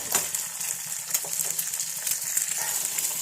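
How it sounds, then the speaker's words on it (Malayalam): Egg frying in a pan, a steady bright sizzle with faint crackles and a low hum underneath, continuous and close, with occasional soft clinks. "ഞാനിങ്ങനെ മാത്രം മുട്ട പൊരിക്കും"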